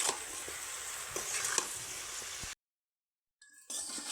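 Ash gourd murabba being stirred in a pan as the sugar dries to a grainy coating, a soft continuous sizzle with light scraping, broken by a short stretch of silence before the stirring resumes.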